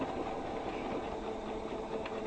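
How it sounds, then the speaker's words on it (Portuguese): A sewing machine runs a steady, continuous stitch along a creased fold of quilting cotton for a Dresden plate block, a fairly loud even mechanical whir with no voices. "Aonde você vincou, você vai passar uma costura. Você passa a costura, dá um retrocesso,"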